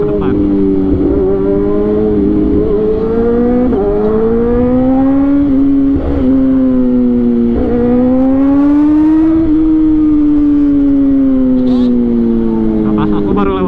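A Yamaha R6 and a Z1000 ride in heavy motorcycle traffic on the road, a loud, close engine whine rising and falling with revs while the rider talks over it through a helmet intercom.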